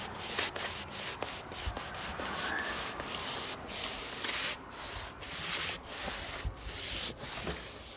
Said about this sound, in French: Puis on frotte.